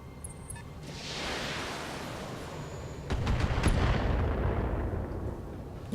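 Artillery fire support in the BattleTech mech game: a sustained roaring barrage, then a burst of sharp, close impacts around the middle that keeps rumbling loudly to the end, with no voices.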